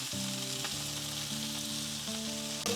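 Steak searing in a screaming hot pan gives a continuous loud, crackling sizzle with no break, close by and heard alone.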